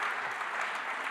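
Audience at a French medical association debate applauding the president, a steady, dense wash of clapping throughout with no voices over it.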